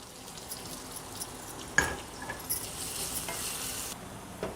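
Garlic cloves fry in hot oil in a pan for a dal gravy, giving a soft, steady sizzle with a sharper splash and crackle near the middle and light stirring throughout. No one talks.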